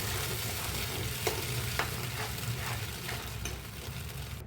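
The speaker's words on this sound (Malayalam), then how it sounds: "കൈവിടാണ്ട് സ്ലോലി ഇങ്ങനെ മിക്സ് ചെയ്തുകൊണ്ടിരിക്കണം." A flattened rice (aval) mixture is stirred steadily in a frying pan over a low flame. The soft, constant sizzle carries a few light scrapes of the spoon, and no voices are heard.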